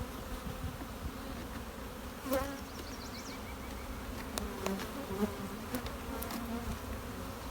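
Honeybees buzz in an open hive being split and searched for queen cells, a dense, steady hum close by, with a few brief handling clicks and a short spoken remark over it.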